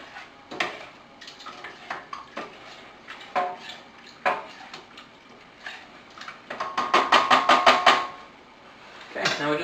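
A spoon stirring seasoning into simmering chili in a pot, with repeated clanks and scrapes against the pot's sides and a quick burst of rapid rhythmic clattering near the end, close and clear.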